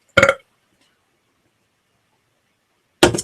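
Two short, loud belches separated by about three seconds of silence, each a raspy, voiced burst lasting a fraction of a second, the second cut off at the end.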